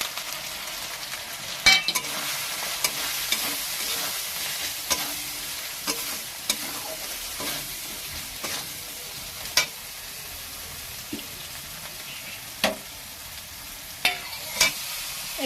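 Ground spices frying in oil in a pan for a cabbage and koi fish dish, with a steady hiss under irregular spatula scrapes and clinks, moderately close and fairly quiet, no voices.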